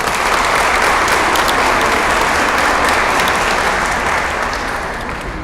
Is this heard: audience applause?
yes